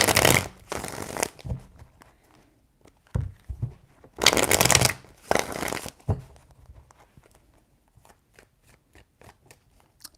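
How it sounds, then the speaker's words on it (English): Tarot cards shuffled by hand in two distinct bursts of rapid riffling and flicking, close and fairly loud, separated by quieter handling taps and soft card movements, with no talking. "Three shuffles."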